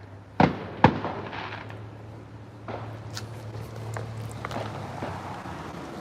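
Fireworks burst in a residential neighborhood at night. Two sharp, loud bangs come in quick succession, followed by fainter crackles and distant pops against a low steady hum.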